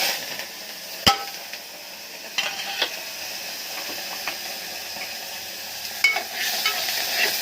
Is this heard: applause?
no